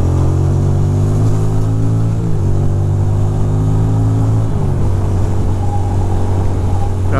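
A Ducati motorcycle engine runs close and loud, holding a steady drone with harmonic bands that rise and then fall, ending in a brief throttle blip near the end, with no voices heard.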